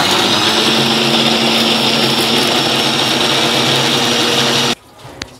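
A kitchen mixer grinder runs loud and steady at close range for several seconds while coarsely grinding green gravy masala, then cuts off abruptly, leaving a brief quiet clatter.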